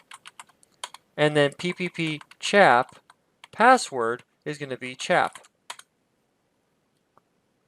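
Router commands are typed on a computer keyboard as quick, light clicks, mostly buried under steady talking.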